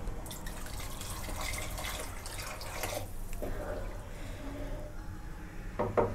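Water is poured into a cooking pot of rice and lentils for Bengali khichuri, a soft steady trickle and splash close by that ends in a few drips and clinks.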